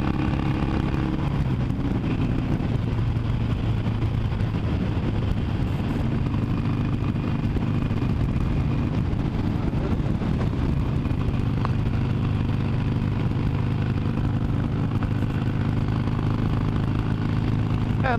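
A Harley-Davidson 883 Iron motorcycle cruising on highway BR 101 in Brazil, its engine a loud, steady low drone with rumbling exhaust and wind noise, holding a constant pace for the whole stretch.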